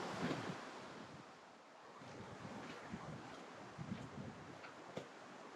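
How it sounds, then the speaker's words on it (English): Strong wind gusting across an open bog in Kurjenrahka national park buffets the microphone, a broad roaring rush with uneven swells and thumps, close and loud, with no talking. "I can fix this wind in post-processing, because it's blowing from the bog, so it's coming up pretty hard"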